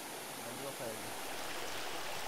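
A faint, steady rush of a mountain stream in a valley on Odaesan, with soft babbling, heard from a little distance, quiet and continuous.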